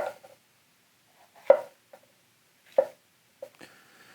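A Kenshiro Hatono knife cuts through bell pepper on a board in a few sparse, separate chops, three sharper knocks spaced over a few seconds with small clicks between them, close and fairly quiet in a still room.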